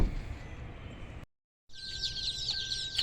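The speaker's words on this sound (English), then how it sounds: "so as you can tell by the noise, we got our birds" Baby chicks in a shipping box chirping in a dense, continuous chorus of high peeps, heard up close after a short gap of silence, with muffled car-interior rumble before it.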